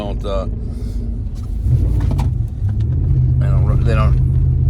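A car drives along with a low steady engine rumble and road noise throughout, under someone talking.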